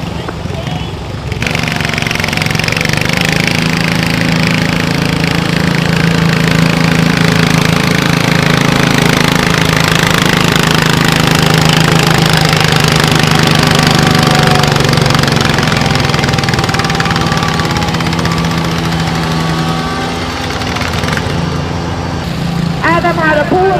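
A factory stock single-cylinder 16 garden tractor engine roars loud and steady at a tractor pull, holding a strained drone for about twenty seconds before cutting off, with a crowd and announcer faintly behind.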